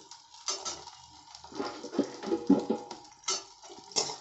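Cashews are tossed into a pan of frying onions with whole garlic and ginger, after the gas is turned down. Scattered light clinks and taps of a utensil against the pan sound close and soft, with a faint sizzle underneath.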